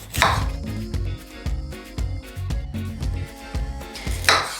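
A knife chops through pears on a board with steady, evenly spaced strikes as the fruit is sliced into rings, close and crisp over faint background music.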